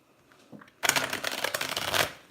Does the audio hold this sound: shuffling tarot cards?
yes